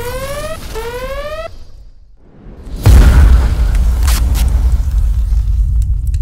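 Rising whistling tones give way to a hush, then a deep booming plasma grenade blast erupts and rumbles on in a video game, with crackling bursts trailing afterward.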